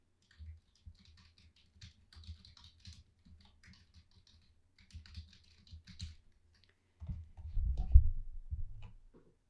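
Quick, light keystrokes on a computer keyboard as a sheet name is typed, faint and irregular, followed near the end by a few louder, duller thumps.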